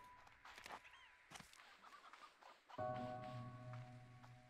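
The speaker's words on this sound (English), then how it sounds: "Hey, I heard some chickens." Hens cluck and squawk in the game Slime Rancher 2, several short, close-up clucks scattered across the clip, followed by a steady low hum.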